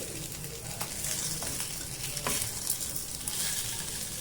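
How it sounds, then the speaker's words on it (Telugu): Fish shallow-frying in a pan as the pieces are turned, steady close sizzle with occasional scraping clicks of a utensil, continuous and moderately loud. "అలా అటు ఇటు తిప్పి మీరు వేయించుకుంటామనండి."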